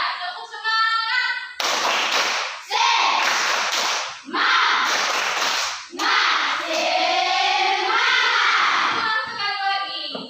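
A classroom of students performs a rhythmic spirit clap, several bursts of loud, close group clapping in a patterned beat, with a voice talking at the start and end.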